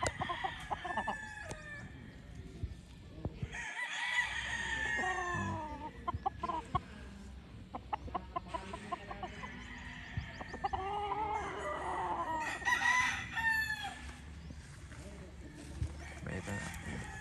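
Game farm hens and chickens cluck and crow throughout, with bursts of fowl calls rising and falling near and far while someone talks over them.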